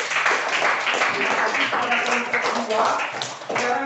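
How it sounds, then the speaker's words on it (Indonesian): Students in a junior high school science classroom clap for a group that has just presented: a soft, scattered patter of hands runs under a teacher's ongoing speech. "kita beri tepuk tangan untuk kelompok 2 yang sudah mempresentasikan"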